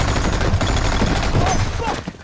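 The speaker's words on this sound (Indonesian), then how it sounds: "Jay melemparkan granat dan memberondong mereka dengan tembakan" Movie gunfire from a Navy SEAL action film: a dense, loud burst of rapid machine-gun fire with booming low-end impacts, sustained for about two seconds before tapering off, with a bit of voice mixed in.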